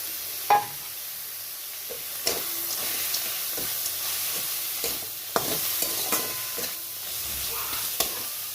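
Spinach frying in a pan with crushed lentil bori hisses softly and steadily, broken by sharp spatula scrapes and taps as it is stirred at uneven intervals, no voices.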